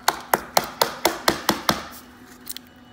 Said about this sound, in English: you knock your grommet in there to seal it